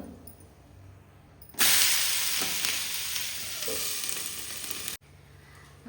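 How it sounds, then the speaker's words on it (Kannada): A roti fries in a hot pan and a loud, close sizzle erupts suddenly, holds for a few seconds, then cuts off abruptly, leaving a quiet background. "ಎರಡು ಸೈಡ್ ಕೂಡ ಫ್ರೈ ಆಯಿತು ರೊಟ್ಟಿ ರೆಡಿ ಆಯಿತು"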